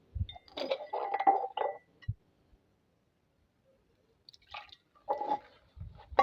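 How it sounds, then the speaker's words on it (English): Liquid poured into a cup from a container, heard as two short bursts of splashing and dripping with a clink, close and fairly quiet, separated by a silent gap. "let me go ahead and pour small in a cup"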